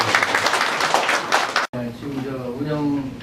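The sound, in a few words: audience applause welcoming a speaker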